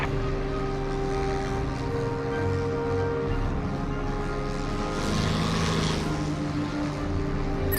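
Propeller aircraft engine in the Xbox 360 flight game IL-2 Sturmovik: Birds of Prey, a steady droning hum with tonal harmonics and a slight swell in pitch and intensity midway, continuous and close.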